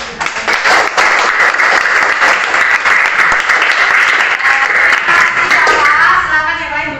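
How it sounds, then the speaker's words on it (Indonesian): Classroom of students applauding together, a loud, dense burst of many hands clapping that runs steadily for several seconds before tapering off, with faint voices mixed in. "Tepuk tangan untuk kita semua."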